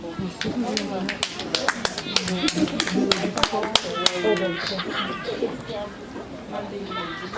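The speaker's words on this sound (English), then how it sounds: "A round of applause for them." Guests at a surprise baby shower clap in a burst of sharp, uneven hand claps, with people talking and cheering over and around the applause throughout.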